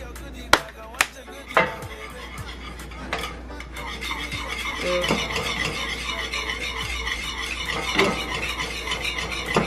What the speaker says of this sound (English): You need to keep stirring it around.